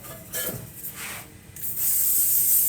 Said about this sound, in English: It's Not Your Mother's Volumizing She's a Tease hairspray.